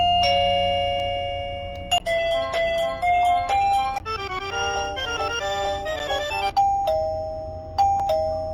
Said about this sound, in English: This guy here, he has also different setting for the chime.